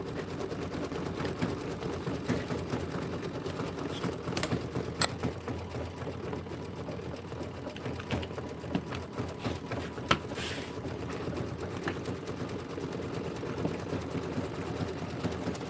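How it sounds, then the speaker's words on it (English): A sewing machine stitches quilt squares and rectangles together for a Kimberbell County Blooms pillow: a continuous fast mechanical whir with light ticking and clacking, running steadily and close by, with no talking. "I'll start sewing these together. I'll lay them out and then I'll start stitching them."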